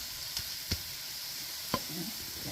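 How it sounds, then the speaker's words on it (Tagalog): Spicy tomato sauce with chili sizzles steadily in a pan while being stirred, with a few sharp spoon clicks against the pan over the constant frying hiss; no one speaks. "Haluin muna natin para magpantay-pantay yung anghang niya bago natin isunod ang sardinas."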